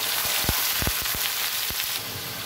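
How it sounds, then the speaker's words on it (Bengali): Pieces of broiler chicken meat frying in oil, with a steady crackling sizzle punctuated by several sharp pops and spits, close and fairly loud, no voices. "তো দেখতে পাচ্ছেন মাংসটা আমার তেলের মধ্যে ভাজা হচ্ছে।"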